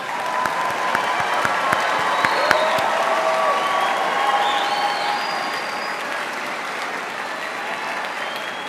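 Graduates of an agricultural, food and life sciences college applauding at a spring commencement ceremony, sustained loud clapping from a large crowd in a big hall, with a few scattered cheers and whoops throughout.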